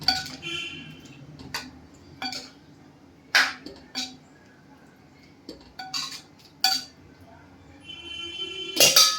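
Utensil stirring and mixing mater paneer curry in a pot, giving a series of separate metallic clinks and scrapes with quiet pauses between them, close by, with no talking.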